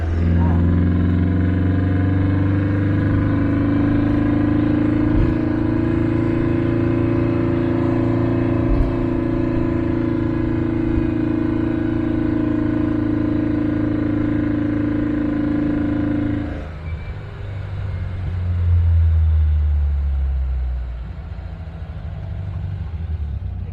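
A 1957 Tonella car engine strains while accelerating uphill in first gear, a steady mid-pitched drone holding for a long stretch before easing and shifting, with people talking over it.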